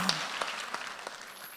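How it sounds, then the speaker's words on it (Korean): Church congregation clapping during a Korean worship service, a few sparse, scattered claps spaced out over a quiet moment, fairly close and not very loud. "오늘 내 말을 깨달은 사람 박수 쳐보세요"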